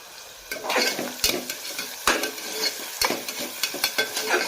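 Onions fry in a pan until light brown for a chicken gravy, a steady sizzle broken by repeated scraping stirs and clinks of a spoon against the metal, close and fairly loud with no talking.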